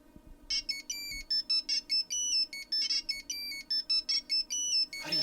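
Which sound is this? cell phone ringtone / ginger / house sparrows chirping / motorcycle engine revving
cell phone ringtone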